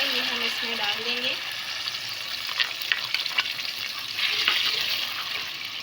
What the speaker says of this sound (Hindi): ये 2 प्याज मैंने ब्लेंड करके रखी हुई है, ये हम इसमें डाल देंगे